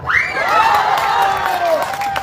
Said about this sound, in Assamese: এই ককাই লগৰ হাত চাপৰি বেছি ডাঙৰকৈ আহিছে